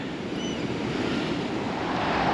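High ocean waves churn during a king tide on the Oregon coast, a continuous loud wash of surf mixed with wind rumble on the microphone, building slightly toward the end with no voices.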